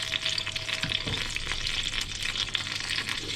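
Goose frying in a pan to crisp and darken the skin, a close, steady sizzle and spitting fat with a light clunk early on, no one speaking.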